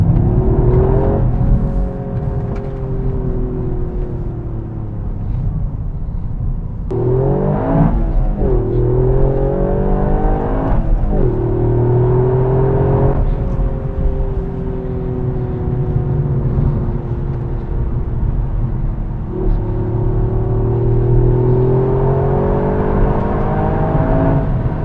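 A Toyota GR Yaris pulls hard on a country road, its engine note climbing through the revs in long sweeps, with brief dips at each gear change. The drone is loud and continuous, with no talking.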